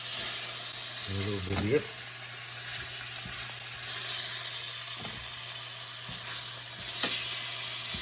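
Chicken piccata cooking in a pan sauce gives a steady, faint sizzle with a short clatter of stirring early on, while a person speaks briefly over it.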